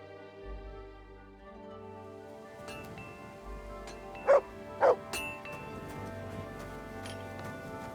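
A dog in the video game Kingdom Come: Deliverance II gives two short, sharp barks close by, set against background music and ambient game sound.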